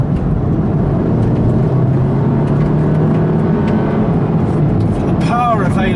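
Volkswagen Golf R engine pulling hard under heavy acceleration, a loud, steady low drone with rising harmonics throughout, heard from inside the car, with a brief tonal sweep near the end.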